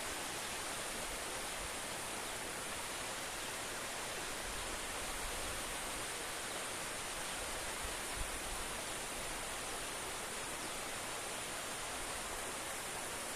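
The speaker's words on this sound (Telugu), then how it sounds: "ఈ వాటర్ ఫాల్ ఇలా కొనసాగుతూనే ఉంటుంది." A waterfall flows without pause, its dense, even roar of falling water filling the scene at a constant level from start to finish, with no voices.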